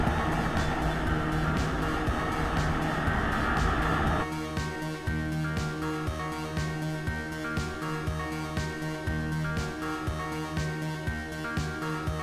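A 2020 Kawasaki Ninja 400 motorcycle accelerates up a straight uphill road. The engine is loud and close, rising through gear changes with a revving tone that steps up partway through.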